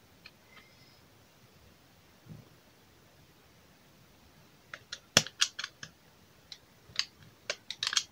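A small blade cuts through a Fimo polymer clay cane with a series of quiet, sharp ticking slices in an irregular rhythm, close by and otherwise nearly silent.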